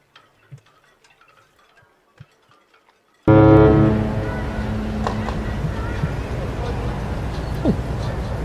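Deep, loud blast of a cruise ship horn, P&O Iona or MSC Virtuosa departing the Port of Southampton, starting abruptly after a few faint ticks and holding steady for several seconds.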